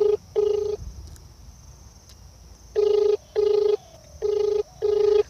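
An outgoing phone call rings unanswered, the ringback tone heard as paired bursts with a long gap between the pairs, clear and close over faint background hiss.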